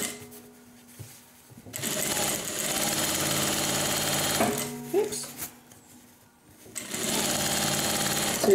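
Two runs of a sewing machine stitching a 1/4 inch seam, each a steady close motor hum, separated by a quieter pause with small handling clicks and a voice speaking briefly.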